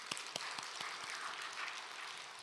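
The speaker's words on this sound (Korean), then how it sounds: "박수 한번 쳐주세요." Church congregation applauding the accompanist after a hymn, with a dense wash of clapping hands running steadily throughout and a few sharper claps standing out near the start.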